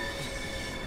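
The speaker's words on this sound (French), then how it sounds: "Voilà la classe 465 qui arrive, donc qui est le train." A Class 465 electric multiple unit on the Southeastern High Speed line in Train Sim World 2 rumbles steadily as it arrives, with a continuous droning hum and faint wheel squeal, close and unbroken.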